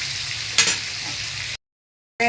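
Fish frying in a pan gives a steady bright sizzle with a brief stirring scrape, then cuts to silence before the sizzle returns, close and fairly loud.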